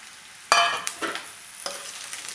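Spiny gourd pieces tossed into a hot frying pan and stirred, starting with a loud burst of sizzling and then a few scraping stirs over steady frying crackle, close up with no talk.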